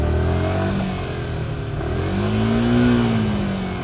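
A motorcycle engine runs at steady throttle held by a throttle lock cruise control while riding, a continuous mid-pitched hum that rises and falls gently in pitch, close and fairly loud.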